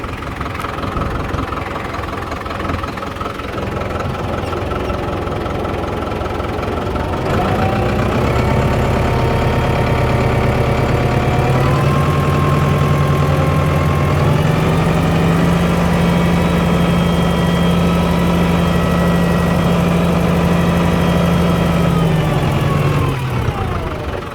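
A New Holland TS110 tractor engine idles with a low, loud diesel rumble, then rises to a higher steady drone that holds for most of the time before easing back near the end.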